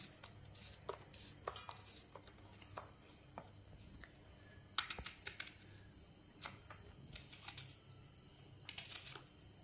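A knife chops green chillies on a board in a rural Pathani village kitchen, a quick irregular run of crisp taps, faint against a steady drone of crickets with no talk.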